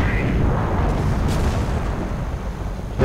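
A Maus heavy tank fires its cannon in Company of Heroes, a loud, heavy boom with a deep rumble that rolls on and slowly fades.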